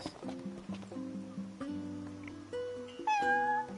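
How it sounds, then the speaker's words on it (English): A cat meows in the video game Final Fantasy XV, a short rising call near the end, set over layered game music with sustained tones running underneath. "Hi, kitty cat."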